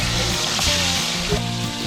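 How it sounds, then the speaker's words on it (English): A roughly 3-pound slab of grouper fries in olive oil in a pan, giving a loud, steady, close sizzle and crackle throughout with no talking. "We're gonna go ahead and put our second piece in there and get it frying"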